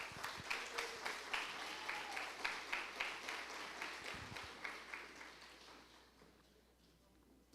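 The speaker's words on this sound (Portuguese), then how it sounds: "Aplaudir os atores aqui." Congregation at a church celebration service applauding actors, a quiet, rhythmic round of clapping in steady beats that gradually fades out.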